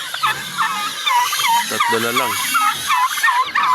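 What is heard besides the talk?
turkeys gobbling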